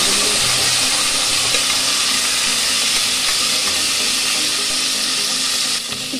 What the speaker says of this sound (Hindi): इसमें मैं डाल दूंगी गोभी मटर आलू, सबको 3-4 मिनट के लिए कढ़ाई में दूंगी।